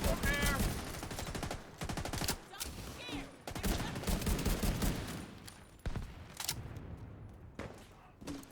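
Dense video game gunfire erupts in rapid automatic bursts and overlapping shots, loud and near, with brief pauses between volleys and a voice speaking over it.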